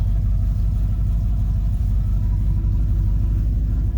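A 1958 Chevrolet Impala with a 348 V8, automatic, and dual exhaust with cherry bomb mufflers idles on a freezing day with a deep, steady, burbling rumble, loud and close, without talk.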